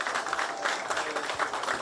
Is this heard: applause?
yes